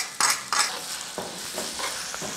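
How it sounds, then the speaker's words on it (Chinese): Mild Sichuan chili bean paste (doubanjiang) stir-fried in a wok with peppercorns and mutton fat: a close, continuous sizzle punctuated by several brisk spatula scrapes and stirs, no voices present. "是微辣，豆瓣是微辣的，给它炒香，炒出颜色哈，颜色炒出来。"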